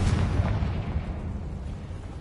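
Confringo fire spell explosion from the Hogwarts Legacy video game: a loud, dense low rumbling burst that lingers steadily for a couple of seconds, with no voices over it.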